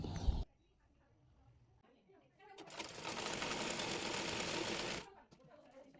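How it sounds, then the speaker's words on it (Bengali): A sewing machine stitches the body panel of a round Sunnah-style garment, running steadily for a few seconds after brief quieter handling sounds, close and fairly loud. "বডির মাপ অনুযায়ী বডি পার্টটি সেলাই করে নেব।"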